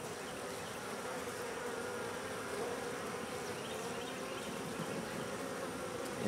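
Honey bees swarm around a hive in a steady, dense buzzing drone that holds even and close throughout, with no voices.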